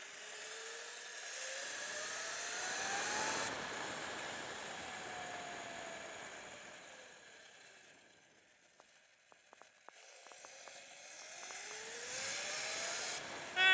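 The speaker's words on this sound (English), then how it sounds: "Man, the drivetrain doesn't sound so good right now," The drivetrain of a Sur Ron Light Bee electric bike with a KO factory motor and controller gives a sustained whine that rises and falls in pitch, with faint clicks during a quieter stretch before it builds again.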